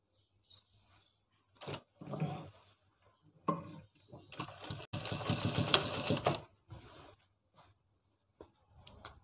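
A sewing machine stitches a ladies coat collar in short, quiet bursts of rapid mechanical chatter, with one longer run in the middle, separated by near silence.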